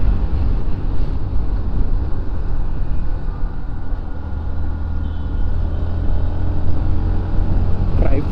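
Road traffic heard from a moving NS125 motorcycle in Gandhinagar: a steady, loud low rumble of engine and wind throughout, with other vehicles blending into the roar.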